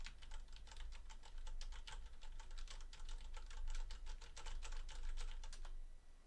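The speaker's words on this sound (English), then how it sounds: "here's a sample if you're typing on a keyboard" Typing on a mechanical keyboard picked up by a Fifine K669 USB microphone: a steady run of quick, crisp key clacks at close range, continuing without pause and with no voice over it.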